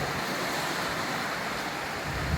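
Sea waves wash onto the shore at Holcombe Beach, a constant broadband roar of surf with some wind, loud and unbroken, with no voices over it.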